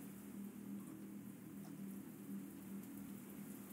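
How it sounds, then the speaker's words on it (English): Faint, steady rain falling outside, a soft continuous patter of drops under a low constant hum, with no talking. "It's raining."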